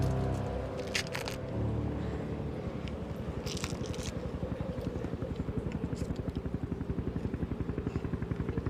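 A helicopter approaches over a snowy mountain, its rotor beat emerging from a low rumble into a steady, rapid thumping pulse that grows more distinct toward the end, fairly faint overall.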